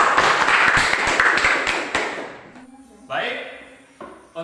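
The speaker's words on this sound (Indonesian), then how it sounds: "kita berikan aplaus kepada kelompok Pena." Applause for a group in a classroom gathering, a short burst of clapping that fades after about two seconds, followed by quieter thumps and a voice speaking.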